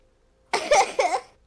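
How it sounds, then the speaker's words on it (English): A single close cough, a sharp burst broken into two quick hacking pulses after a moment of near silence. "The best part was I actually had to cough."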